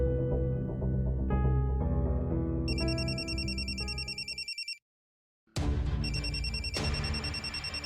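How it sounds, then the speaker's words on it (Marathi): A mobile phone rings somewhere inside a house, its electronic tune repeating in bright bursts, cutting off briefly into silence, then starting again, loud and clear with no voices. "रिंगचा आवाज इथून कुठून तरी येतोय."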